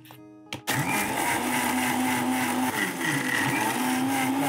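A kitchen mixer grinder starts abruptly and runs loud and steady with a high whirring drone, near and uninterrupted, while grinding cashew nuts and whole pepper for pongal.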